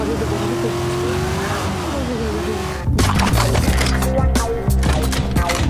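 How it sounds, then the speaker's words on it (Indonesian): Street racing cars roar past a lake, engines droning steadily before a sudden louder rush of revving and passing noise, set against a movie soundtrack. "seorang polisi bernama Philip yang sedang memancing mendengar suara gemuruh dari mobil para pembalap"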